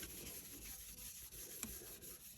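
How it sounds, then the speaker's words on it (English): A glitter brush rubbing lightly over a dried glittered birthday card, a faint, continuous soft brushing and scraping with slight rhythmic strokes and one small tap partway through. "When I'm using glitter, once it's all dry, I just gently rub over"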